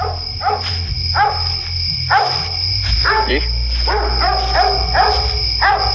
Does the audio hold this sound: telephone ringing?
no